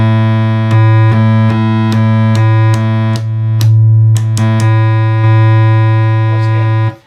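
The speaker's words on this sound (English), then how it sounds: "I'll go through the wave shapes so you can hear how those are working." 1972 Minimoog synthesizer holding a steady low droning tone as the oscillator wave shape is switched through several settings, each change marked by a click and a shift in timbre, loud and close with no talking.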